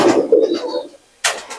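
A Golden Teddy Pakistani pigeon coos close up in a couple of soft throaty phrases, followed by a brief pause and a short burst of other noise.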